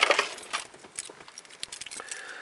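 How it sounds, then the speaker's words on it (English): Keys to a 1988 Toyota FJ62 Land Cruiser jangle close up, a quick bright metallic rattle in a burst at the start followed by lighter scattered clinks, with no talking. "I've got 3 keys for this car."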